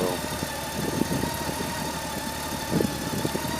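A vehicle engine idles steadily with a low, even rumble and a few small bumps in level, nothing else over it; the engine is about to be shut off.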